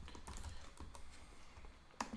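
Quiet, close typing on a computer keyboard while coding in Python with pandas, with irregular soft key clicks and one sharper tap near the end, and no voices.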